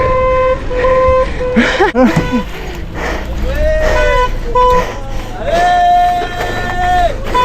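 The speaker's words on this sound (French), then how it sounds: "voitures qui klaxonnent là" Car horns honking repeatedly amid street traffic and a cheering crowd greeting cyclists arriving at the end of a north-to-south bike trip in France, long and short toots over constant babble and voices.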